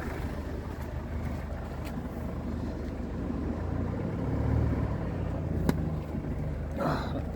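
A Mercedes CLA C117 sits on jacks in drive with its wheels turning, giving a steady low engine and drivetrain hum that swells slightly midway, with a brief sharp click near the end.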